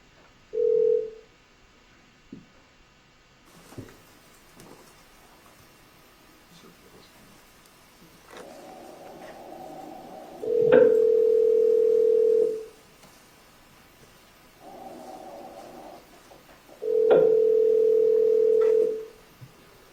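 A recorded telephone call rings through toward voicemail, with a few long ringback tones repeating at steady intervals amid quiet line noise and brief shorter tones near the start.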